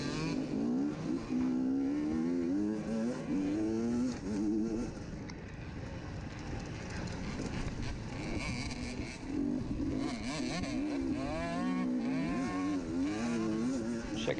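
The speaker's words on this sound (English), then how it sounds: "Check out all the bikes." Dirt bike engines from a 2021 SXCS Round 8 race drone and rev continuously on a woods track, several machines layered together at close to middle distance without pause.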